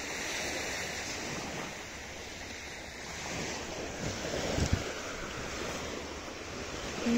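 Steady wash of calm sea surf rolling onto a shore in Spain, with gusty wind noise across the microphone and a slightly louder wave breaking near the middle.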